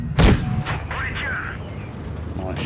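A single loud tank cannon blast from an AMX CDA 105 fires at a T-28 defender in World of Tanks Blitz. It cracks sharply at the start, then lighter in-game effects and rumble follow.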